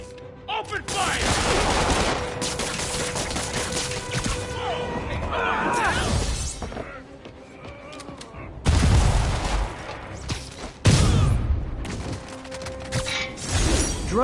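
Rapid gunfire bursts crackle and boom from enemies in the Spider-Man PS4 video game, dense and loud with crashing impacts, layered over in-game character voices and action effects throughout.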